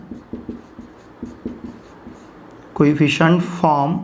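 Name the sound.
writing on a board or paper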